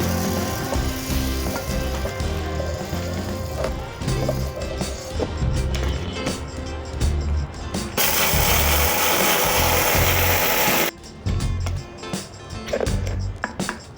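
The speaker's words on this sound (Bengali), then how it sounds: "দেখুন সব ধনেগুলো আমার গুঁড়ো করা হয়ে গেছে, সব ধনেগুলো" Electric grinder whirring steadily as it grinds coriander seeds into powder, a loud, continuous motor drone with rattling seeds and a brief harsher burst partway through, no talk.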